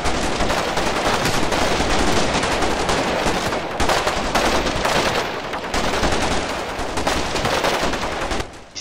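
Heavy, sustained gunfire in a war strategy game, dense overlapping rifle and machine-gun bursts rattling nonstop, loud and close, with no voices over it.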